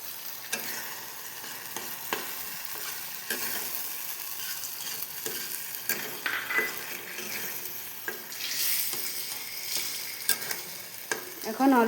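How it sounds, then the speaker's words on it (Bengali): Yogurt poured over food frying in a pan, a dense continuous sizzle that swells and crackles as it is stirred, with frequent scraping strokes and light clinks of a utensil, close and loud with no talk. "এখন আমরা এটার উপরে অল্প দই ঢেলে দেব"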